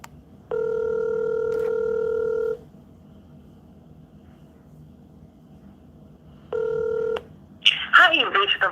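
A telephone call being placed: a long steady tone, a pause, then a shorter tone, before a voice starts speaking.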